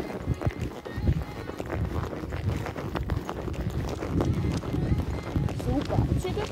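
Horses trotting on a riding ground give a steady, close run of rhythmic hoofbeats, with someone talking over them.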